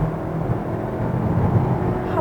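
Kia Seltos gasoline car accelerating hard and shifting up near 6500 rpm in fifth gear, a loud steady engine drone heard from inside the cabin with no talking.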